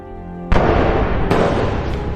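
Two loud gunshots in a film ring out less than a second apart, each sharp crack followed by a booming, lingering echo.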